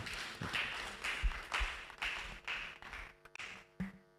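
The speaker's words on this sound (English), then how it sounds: "a very big round of applause to appreciate them" A lecture audience claps together in a steady, rhythmic burst of applause at a public health talk, the sharp claps landing about twice a second before thinning out and fading.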